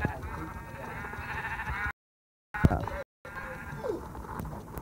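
Sheep bleating in a game, wavering cries heard over background noise, with a couple of abrupt silent gaps.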